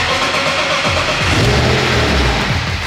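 A BMW E46 engine runs loud and close with a steady, continuous roar, and it rises slightly toward the middle as if lightly revved. No one speaks.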